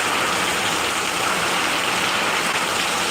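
Heavy rain in Kolkata, West Bengal, falls as a dense, loud, unbroken wash of noise, close and constant throughout.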